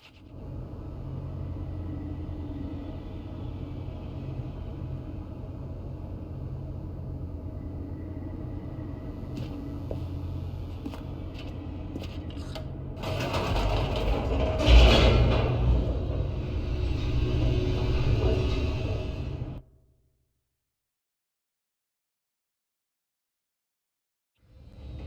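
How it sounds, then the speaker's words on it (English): A deep, steady mechanical rumble from an elevator racing downward in The Stanley Parable: Ultra Deluxe. It swells louder toward the end of the descent, then cuts off abruptly into silence. "The elevator raced downward, plummeting towards an unknown fate."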